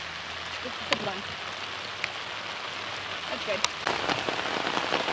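Hard rain pounds down outdoors in a steady, dense hiss, with scattered nearby drips and taps, while people talk briefly under it.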